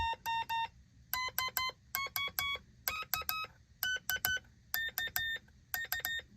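Rapid bursts of short Morse code beeps from a key and oscillator in quick groups, the pitch stepping up and down between groups as the tone is adjusted, sharp and close with brief silences.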